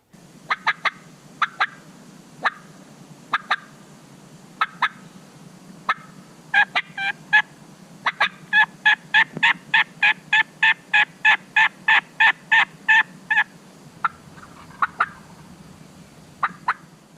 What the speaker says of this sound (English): When I do that, a bird gobbles to our right.